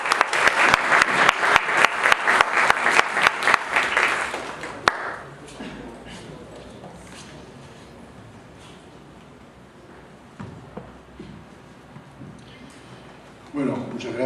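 Audience applause welcomes a speaker at an urban-planning conference in Lima, a few seconds of rhythmic, even clapping that stops abruptly, followed by quiet room tone and a voice starting to speak.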